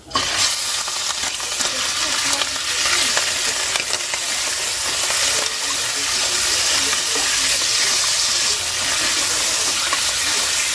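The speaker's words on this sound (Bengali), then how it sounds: "এইবার ওই তেলেতে আমি মাংসটা দিয়ে দেবো" Mutton or beef for Peshawari karahi fries in hot oil in a karahi, a loud, continuous close hiss and crackle of sizzling with faint stirring and no talking.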